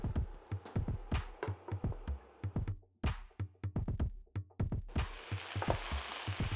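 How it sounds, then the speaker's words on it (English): Courgette and onions cooking on medium heat in a pan, with repeated rhythmic scraping stirs thudding close and clear, then a burst of sizzling near the end. "We will mix them with the onions and going to cook on medium heat while covered until they are soft"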